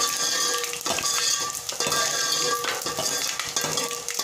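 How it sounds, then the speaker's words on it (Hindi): Whole ajwain and cumin seeds, along with coriander, dry-roasting in a pan for Punjabi kadhi pakora, giving a steady close crackle and faint sizzle with repeated scraping and stirring strokes throughout. "अजवाइन और जीरा। इनको हमने भून लेना अच्छी तरह से।"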